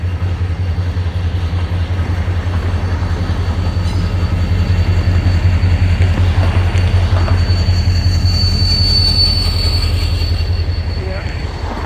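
A CSX freight train rolls past close by with a loud, steady rumble of wheels on rail and faint high squeals throughout, holding strong before easing slightly at the end, with no talk.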